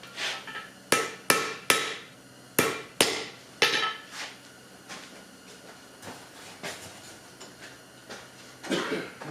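Hammer peening and forging metal, a series of sharp ringing blows close by, fast and regular at first, then softer and more spaced out, with a final loud cluster of strikes.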